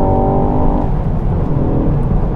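Loud, close engine note from a 2019 Ford Focus ST pulling hard in second gear toward 7,000 rpm, a rising whine that settles into a dense rumble, with no voices.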